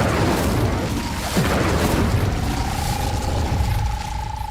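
A fire spell cast in Hogwarts Legacy on Switch 2 gives a soft whooshing burst over a steady, dense game backdrop, followed by a sustained rising magical tone that holds for a couple of seconds.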